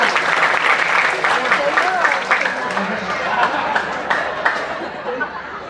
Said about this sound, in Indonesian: Tepuk tangan untuk tamu ini luar biasa